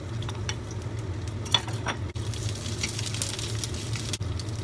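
Ginger and onion fry in oil in a pan, making a low, steady sizzle that runs throughout. Faint clicks and scrapes of a utensil stirring are heard, and a couple of brief knocks stand out, with no voices.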